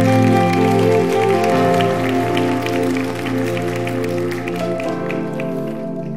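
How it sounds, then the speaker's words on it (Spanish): A church congregation applauds during a sermon, a dense, sustained patter of many hands that blends with steady background music and slowly eases off. "Dé ese fuerte aplauso a él"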